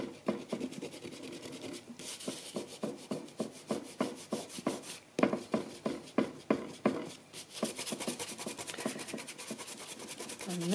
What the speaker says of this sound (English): I'm just going to use a Derwent eraser